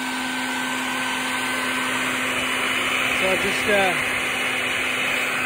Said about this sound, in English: vacuum up as many as I can.